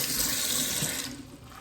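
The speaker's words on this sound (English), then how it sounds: "It's just a simple water rinse will help." Running tap water splashes steadily as an aquarium jellyfish decoration is rinsed, close and fairly quiet, tapering off toward the end with no talking.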